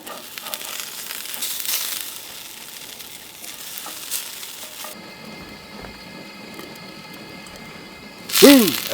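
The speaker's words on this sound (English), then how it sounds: "This is pre-cooked bacon, pre-cooked potatoes, pre-cooked chorizo. All you do is warm it up" Pre-cooked bacon, potatoes and chorizo sizzle in a pan while warming at a camp setting, a steady broadband frying hiss that runs throughout, with a brief louder burst near the end.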